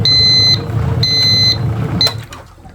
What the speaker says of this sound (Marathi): अलाराम मारतो लगेच.